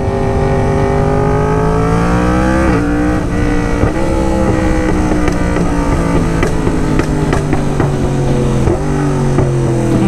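A Yamaha R1 motorcycle engine revs loudly while being ridden in second gear, a continuous, close, buzzing roar whose pitch rises and dips as the throttle changes.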